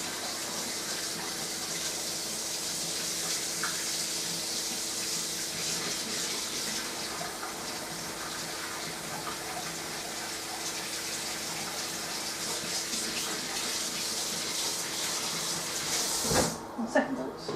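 Tap water runs steadily and loudly for most of the stretch while warm water is gathered to cool a jar during Castile-style soap making, then cuts off abruptly near the end, followed by a few clunks.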